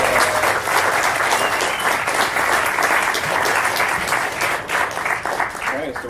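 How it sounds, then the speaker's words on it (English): A seated audience at a panel discussion gives the panelists a round of applause, dense steady clapping for about six seconds that fades slightly at the end. "So a round of applause for our panelists."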